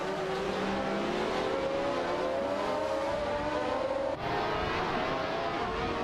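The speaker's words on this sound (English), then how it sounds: "It's a tight race between the Penske and the Ferrari 312T." A Penske PC1 and a Ferrari 312T race in a video game, their engines giving a continuous high, rising whine that briefly cuts out before resuming, with no voices.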